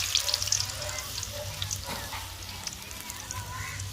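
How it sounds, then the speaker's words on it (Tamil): Vadas frying in hot oil give a steady, close crackling sizzle with bright spitting pops, strongest at the start and holding evenly throughout with no talk. "ஜாலியாக வடை போட்டுன்னு இருக்கேன்"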